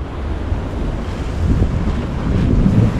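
Sea waves surging and splashing up along a Jamaican shore, a loud, rumbling wash under heavy wind noise that swells midway and keeps roaring.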